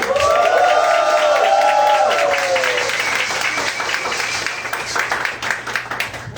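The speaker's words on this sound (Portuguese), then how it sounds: "Por favor, palmas para a Aurita." An audience at a literary panel bursts into applause, with a rising whistle or cheer at the start, then the clapping thins out and fades toward the end.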